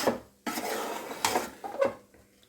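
A spoon stirs pulao with ghee in a pot, making a few close, quiet scraping strokes and light metallic clinks against the pot.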